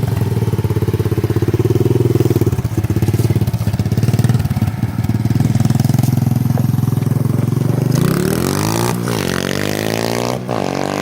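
Small motorbike engine with only a barely working front brake, revving steadily and loud close up while riding, then dropping in pitch as it downshifts toward a stop.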